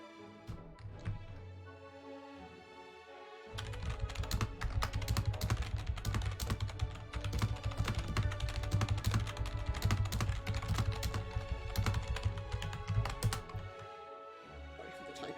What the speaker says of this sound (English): Sorry for the typing noises there.